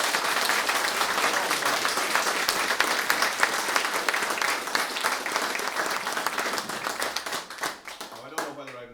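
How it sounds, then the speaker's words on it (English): Sustained applause from a crowd at a launch event at a hospital in Kilkenny, dense and steady, gradually thinning toward the end, followed by a voice beginning to speak. "I'd like you just to finish up to give Paddy a round of applause."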